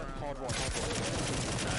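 Rapid video game gunfire from a competitive Pro League match, a dense continuous burst that begins about halfway through and stays loud to the end.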